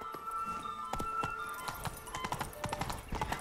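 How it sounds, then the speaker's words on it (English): Horse hooves galloping in The Witcher 3 video game, a quick rhythmic clip-clop over steady ambient game sound, mid-distance and moderately loud. "Run, Roach"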